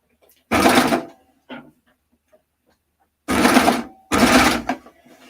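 An overlock sewing machine stitching a skirt runs in three loud, close mechanical bursts, one short and two longer, with quiet gaps and faint handling noises between them.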